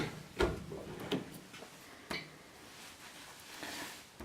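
The door of a home freeze dryer loaded with Ball jars closes with several close, faint clicks and knocks spread across a few seconds in a quiet room.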